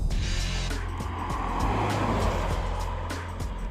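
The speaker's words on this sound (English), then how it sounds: "When you really thrash it, it makes a really hearty 3-cylinder growl" A Renault Sandero's three-cylinder engine is revved hard, producing a steady, loud growl as the car drives, with a continuous rumble and some road noise.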